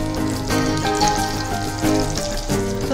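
Boiled eggs dipped in batter fry as egg bajji in hot oil, giving a steady, fairly loud sizzle with a continuous bubbling crackle throughout and no talking.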